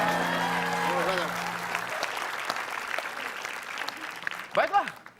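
Studio audience applause at an Indonesian comedy show, a sustained burst of clapping under talk and music early on, then fading, with a brief vocal near the end.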